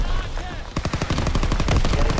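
Rapid automatic gunfire in Call of Duty WWII, a quiet stretch of game ambience breaking into a dense, loud burst of close shots that continues steadily to the end.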